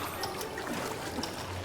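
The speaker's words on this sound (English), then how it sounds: "So Mipha climbed these waterfalls" A waterfall in Breath of the Wild gives a steady, soft rush of falling water, a continuous hiss with faint splashing that stays even throughout, with no voices.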